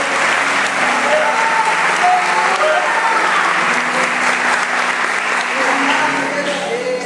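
A church congregation applauds in praise, producing sustained, loud, dense clapping that carries evenly for several seconds, with music or voices faintly underneath.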